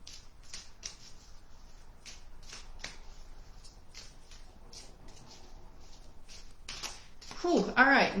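Oracle cards being shuffled by hand, a series of soft papery riffles and flicks repeating steadily, close and fairly quiet, ending in a louder burst of rustling.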